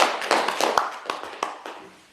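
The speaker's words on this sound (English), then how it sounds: "Give them a round of applause" A small audience at a magic show claps in a loose, thinning patter, individual hand claps standing out before the sound tapers off.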